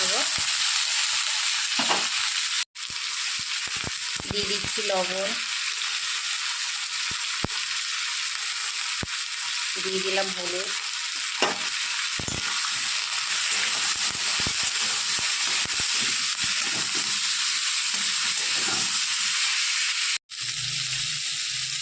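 Cauliflower, potato and radish fry in hot oil with a steady, loud sizzle, with occasional stirring scrapes and brief pauses. Someone speaks briefly in Bengali over the frying.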